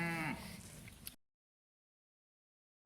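A single low moo comes from cattle on a cow-calf operation, a short, moderately near bellow that tails off into silence before another sound begins at the very end.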